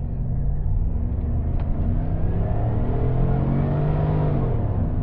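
Holden Commodore SV8 VY V8 with a power mode and traction control on, pulling hard from a standstill. A loud, steady engine roar climbs through the gears with no talk.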